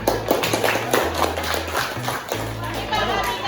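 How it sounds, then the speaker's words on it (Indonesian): Students in a math classroom give a round of applause, a burst of scattered hand claps over lively children's voices and a low background hum, close and continuing for a few seconds. "Keren, tepuk tangan."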